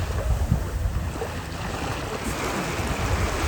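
Ocean surf at a Sydney Northern Beaches beach, a steady broadband wash of breaking waves with wind buffeting the microphone, fairly constant with no distinct individual crashes.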